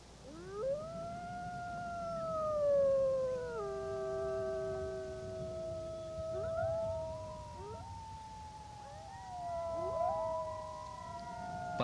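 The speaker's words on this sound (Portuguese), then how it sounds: "Esta é a primeira vez que observo os lobos selvagens enquanto estão uivando" Wild wolves howling in the far north, several long, rising and falling howls overlapping in a chorus, carrying clearly over a quiet, windy background.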